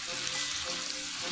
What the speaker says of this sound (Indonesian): Kita aduk-aduk kembali.